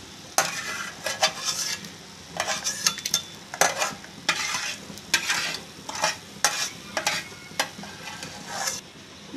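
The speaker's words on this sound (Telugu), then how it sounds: "అదే ఆయిల్లో ఉల్లిపాయలు," Onions frying in oil in a pan for an onion and tomato chutney, a steady soft sizzle broken by repeated scraping and stirring strokes of a spoon against the pan, close and without talk.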